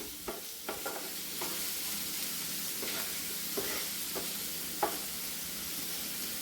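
Onions with salt sautéing gently over a low flame, a soft continuous sizzle broken by several light stirring taps and scrapes spaced out over the seconds, close and quiet, with no voices.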